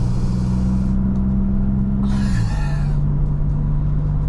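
A 2024 Maserati MC20 Cielo's engine during a spirited drive gives a loud, steady low rumble from inside the car, with the pitch dipping mid-clip as the engine eases off.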